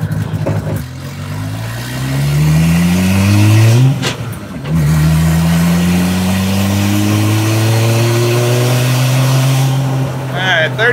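A 2JZ-swapped Dodge Charger accelerating on the road: engine revs climb through one gear, briefly dip at a shift near the middle, then rise again in a long, loud pull, heard from inside the car.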